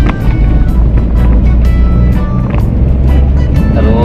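A manual car accelerating just after a shift into third gear, with a loud, steady low engine drone and road rumble filling the cabin throughout.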